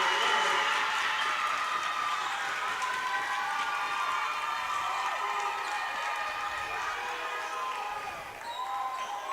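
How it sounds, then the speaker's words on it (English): A gym crowd at a girls high school basketball game between East View and Georgetown roars and cheers after a three-pointer, with loud, steady, broadband noise that holds for several seconds and dips slightly near the end. "So I think it looks like the Eastview crowd is very excited there."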